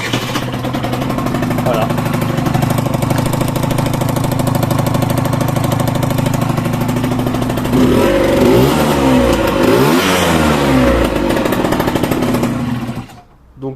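Peugeot Elystar 50cc liquid-cooled scooter engine running loud and close with a rough buzzing idle, then revving up and down before cutting off, someone speaking briefly over it.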